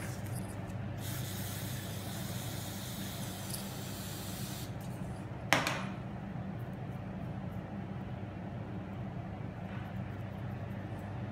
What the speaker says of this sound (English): We'll now be spraying coating on the USB pen drive as well.